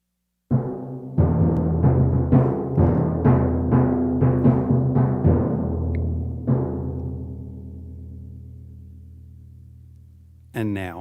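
Orchestra imitating hunters firing rifles in Peter and the Wolf, with a string of loud, punchy accented strikes over a sustained chord, then one last heavy hit that fades slowly.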